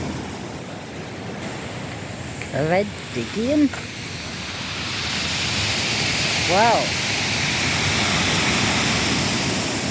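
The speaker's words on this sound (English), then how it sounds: "Well, it's all over the promenade, the waves." Sea waves surge and splash over the Aberystwyth promenade at night, a loud continuous broadband roar of surf swelling toward the end, with brief voices heard over it.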